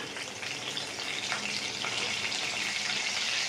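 Curry leaves dropped into hot oil for an eggplant fry crackle into a dense, close sizzle, a continuous bubbling hiss that holds steady and slightly builds over a few seconds.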